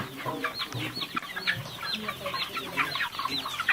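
Many young chickens, a newly bought flock of about 200, cluck and chirp continuously, a dense overlapping flock sound at close range with no talking.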